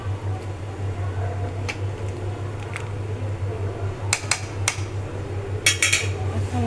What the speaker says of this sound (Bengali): এখন ঢাকনা দিয়ে ঢেকে